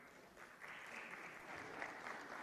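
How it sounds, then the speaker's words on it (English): Faint, distant audience applause for a panelist at a women's festival and awards event in Delhi, a soft continuous patter throughout. "Could we please give her a round of applause?"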